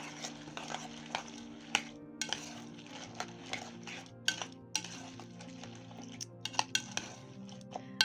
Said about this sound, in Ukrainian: Добре помішуємо.